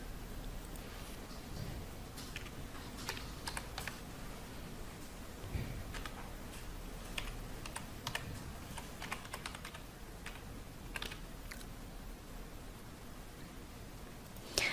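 Light, continuous typing on a computer keyboard while filling in account details, the key clicks quiet and close, with no speech.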